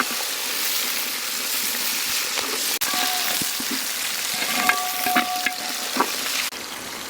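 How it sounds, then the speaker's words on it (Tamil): Peeled small shallots sizzle steadily in hot oil for a fish curry, a close, even frying hiss with occasional stirring clinks. "இப்போ உரிச்சு வச்ச சின்ன வெங்காயம் போட்டால் தான் மீன் குழம்புக்கு நல்லா இருக்கும்."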